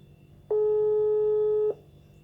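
A single steady telephone ringback tone during a prank call, one continuous beep of a bit over a second, clear and close against faint line hiss.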